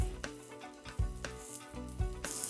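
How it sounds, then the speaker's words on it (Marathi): Finely chopped onion fries in hot oil, being browned to golden: a steady close sizzle broken by periodic scraping stir strokes about every three-quarters of a second. "कांदा सुद्धा सोनेरी रंगावर आपल्याला परतून घ्यायचं."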